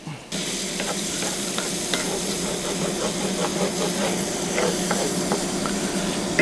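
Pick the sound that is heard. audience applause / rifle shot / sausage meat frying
sausage meat frying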